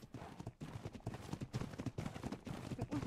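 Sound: horses clip-clopping in ARK video game

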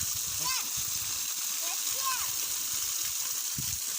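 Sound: groundwater gushing and splashing out of the ground

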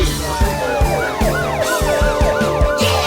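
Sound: police car siren

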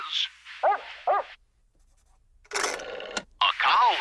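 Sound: dog barking

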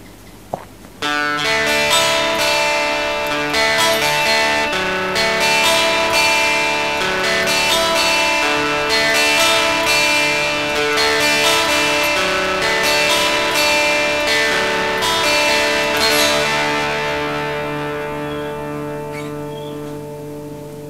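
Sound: electric guitar through Boss DS-1 distortion pedal

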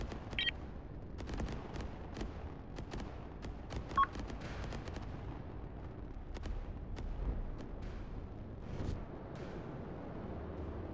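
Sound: artillery firing at a target in a video game

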